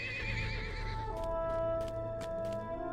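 Shadowfax, a white horse in the Lord of the Rings Online game, gives several quick whinnies and neighs over a steady music and ambient bed, moderately loud.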